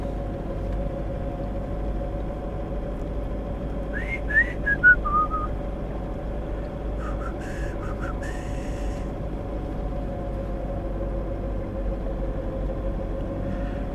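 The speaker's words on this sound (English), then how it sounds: "I'm only driving at about 15 kilometres an hour because I've only got 10 pound of PSI in my tyres" A car creeps along at about 15 km/h on a soft dirt road with tyres down to 10 PSI, a steady low rumble of engine and tyres with a couple of faint whistles over it.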